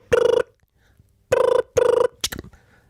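A telephone rings in a room during a radio interview, three evenly spaced buzzing rings and a short fourth burst, loud and clear against near silence.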